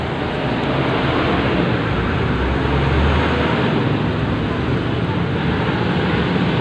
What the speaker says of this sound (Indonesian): Jadi bensin dimasukkan ke botol mineral dan dipompa.